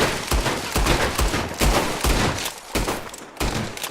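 Rapid, evenly spaced gunshots from a clean weapon being fired in the western game Red Dead Redemption 2, about a dozen sharp, loud reports in steady rhythm with no talking.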